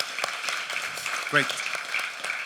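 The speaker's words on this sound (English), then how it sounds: "A round of applause." Audience applause at a panel dialogue on pro-social design, a steady broadband patter of clapping running through the whole stretch while a voice speaks over it.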